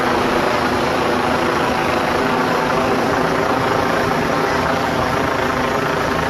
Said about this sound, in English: that helicopter's at about 100 feet, which is right over our head.